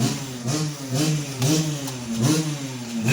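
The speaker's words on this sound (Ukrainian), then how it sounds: "Дивіться, газує." An Opel car engine revs repeatedly in rising and falling bursts, a steady mid-pitched drone swelling about every second, close by and loud with no talking.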